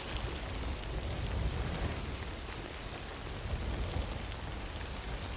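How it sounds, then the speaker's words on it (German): Steady rainfall in the video game Death Stranding, a dense, even hiss of rain with a low rumbling undertone, continuous and unbroken with no voices. "Nimm deine Fracht und suche Schutz vor dem Regen."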